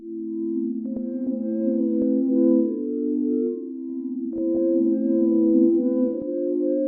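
Soft sustained reversed synth pad chords swelling in and out, shifting between two or three chords in a slow, simple progression with no voices.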